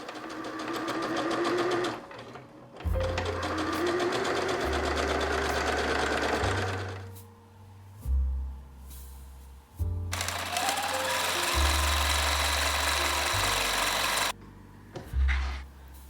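A sewing machine stitches the shoulder of a child's garment, the front folded twice and the back folded three times. It runs in several loud, fast bursts of rattling stitching separated by brief pauses.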